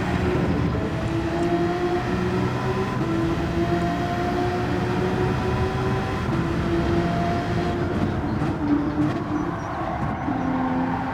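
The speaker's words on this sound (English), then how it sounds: "See the short shift and then the shift again into third and down a gear and back into the third again." Engine of a Gr3 race car in Gran Turismo 7 at Autopolis, a loud steady drone with rising pitch sweeps as it revs through short shifts into third, down a gear and back up, heard alone throughout.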